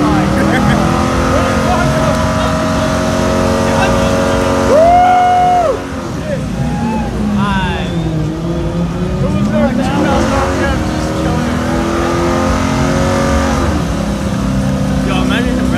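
A car engine revs up and holds steady at a loud, close, rough idle-to-mid throttle drone, with pitch swells and dips and people talking over it.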